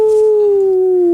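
A single loud wolf howl, one long sustained tone that slowly falls in pitch, heard close and alone.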